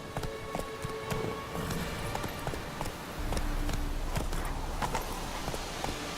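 Hooves of Roach, a horse in The Witcher 3, clopping in an irregular walking rhythm over faint ambient noise, a low rumble swelling in the second half.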